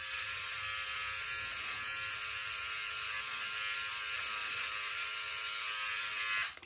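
A Philips OneBlade electric razor shaving a face gives a steady, close, high-pitched buzzing whir that holds evenly for several seconds before cutting off abruptly at the end.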